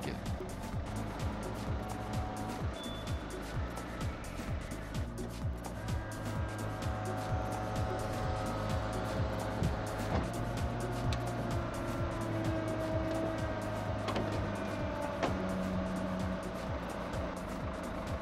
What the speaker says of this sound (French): Moteur tournant, procédez à une ouverture du toit